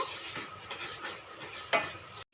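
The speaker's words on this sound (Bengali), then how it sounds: "চিনির সিরাপ বানাবো বলে এখানে একশো গ্রাম চিনি নিয়েছি চিনিটা একটু নেড়ে নেব" A spoon scrapes and stirs sugar around a hot pan while making sugar syrup for sooji pitha, a quick series of gritty scraping strokes close by, ending abruptly.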